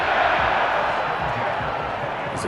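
A large football stadium crowd at a San Antonio versus Los Angeles Reign game keeps up a loud, steady roar of cheering and noise throughout.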